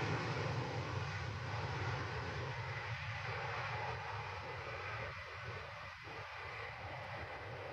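An Ilyushin Il-76 transport aircraft gives a steady, dense engine roar that holds evenly throughout, with no voices.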